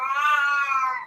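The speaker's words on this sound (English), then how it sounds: "my cat is really fucking yelling at the storm today." A cat yowling at a storm, one drawn-out, loud, tonal wail lasting about a second, close and alone.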